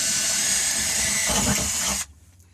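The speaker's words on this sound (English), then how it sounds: "Always good to leave a finger like this on the drill." A power drill with a small bit whines steadily as it bores through car sheet metal. The shrill, sustained drone wavers briefly, then cuts off abruptly, leaving near silence.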